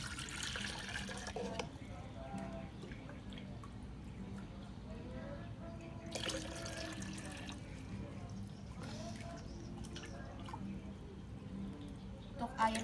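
Fresh water poured into an aquarium, a faint continuous trickling and splashing with a few louder gushes, recorded quietly.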